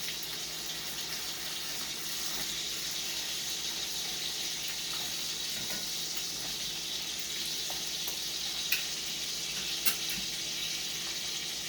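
A steak sizzles in a hot pan, giving a steady, even hiss that fills the whole stretch, with a couple of faint clicks near the end and no one talking.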